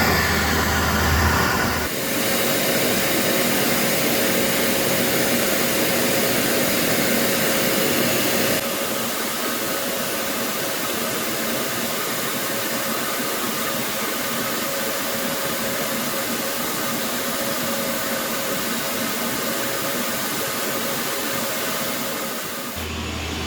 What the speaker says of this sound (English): now that I've got them vacuumed